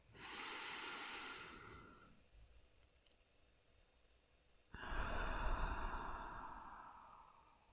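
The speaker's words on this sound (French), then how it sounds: "inspire. Suspension du souffle, poumon plein. Et expire par la bouche, je relâche." Two slow, deep breaths exhaled through the mouth during a guided breathing exercise, each a long airy whoosh, close and soft, with a quiet pause of held breath between them.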